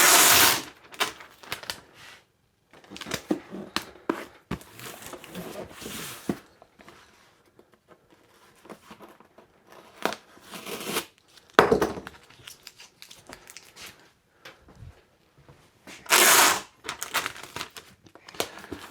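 Packing tape pulled and pressed onto a cardboard box, several sharp ripping strips and rustling handling noises in short bursts with quiet gaps between.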